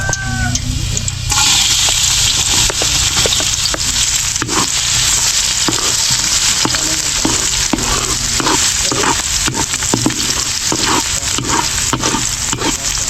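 Steak frying in a buttered pan, loud continuous sizzling close up for the whole stretch, broken by repeated short scraping and tapping strokes of a utensil.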